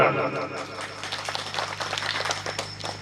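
Audience clapping at a bhajan evening, a fairly faint, steady patter of hand claps over a sustained hum, with no clear voices.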